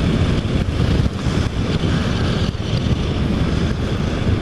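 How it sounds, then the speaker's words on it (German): Wind roars and buffets the microphone continuously while riding a motorcycle, a loud, dense rush with brief dips and no speech over it. "Also ich merke schon, dass der Wind hier durchpfeift"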